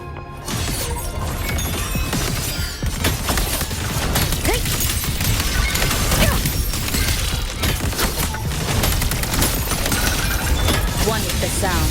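Rapid automated cannon fire from the video game Wuthering Waves, a dense, loud barrage of blasts and crashes running continuously for the whole stretch, with effects and music layered over it.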